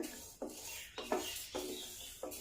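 Horse gram dry-roasting in a pan over a low flame, stirred in slow repeated strokes that give a soft rasping, scraping sound, with four or five distinct passes close by and no talking.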